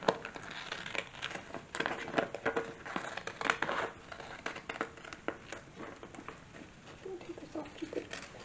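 Paper sewing pattern for an 1830s cap being cut out with scissors, soft irregular snips and crinkling of paper close by, quiet and intermittent with faint rustling throughout.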